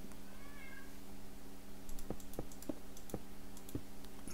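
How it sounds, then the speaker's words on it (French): A house cat meows in a short series of loud, evenly spaced calls near the microphone, over a steady low electrical hum and faint clicking. "Je ne sais pas si vous entendez mon chat qui arrête pas de miauler"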